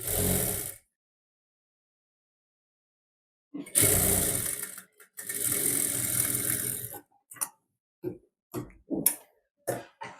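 A sewing machine stitches the back of a blouse onto its lining in short runs: a brief burst, a long pause, then a sustained whir followed by several quick stop-start bursts, close and fairly loud.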